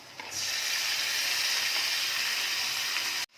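Mutton pieces hit a hot pan for a curry and burst into a sudden loud sizzle that holds steady and close for about three seconds before cutting off abruptly.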